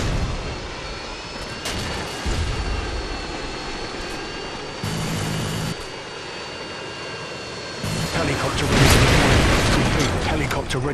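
A Harrier jet engine in a video game roars and whines loudly, rising in intensity toward the end, with booming blasts and a voice talking underneath.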